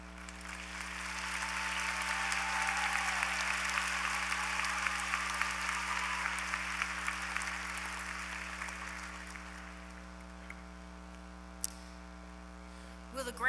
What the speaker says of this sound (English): Let's applaud our doctoral graduates.